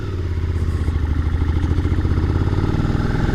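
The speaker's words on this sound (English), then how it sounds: "And the engine pulls from a low speed." A Suzuki SV650 motorcycle engine runs at low speed, a loud steady throbbing pulse with mechanical clatter, close and continuous with no talk.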